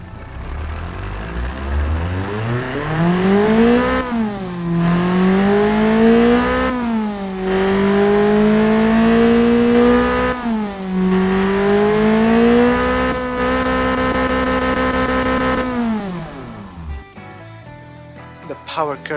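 A tuned hatchback engine with aftermarket top-end parts and a stock bottom end revs repeatedly, climbing in pitch through several long pulls with short dips between, loud and close, ending abruptly.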